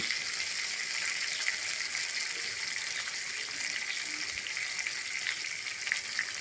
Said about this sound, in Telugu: ఇక ఉల్లిపాయ సన్నగా తరిగాను, ఇది ఎర్రగా వేగాలి